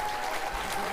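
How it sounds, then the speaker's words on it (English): A studio audience applauds for Colin on a television talk show, a brief burst of dense, steady clapping. "clap for Colin, everybody"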